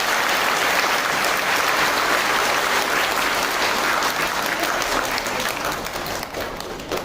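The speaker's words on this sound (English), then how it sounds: "Please give them a big round of applause." Loud, sustained applause from a school audience after a children's performance of Peace Child at Loreto Day School, Bowbazar, dense clapping throughout that eases slightly near the end.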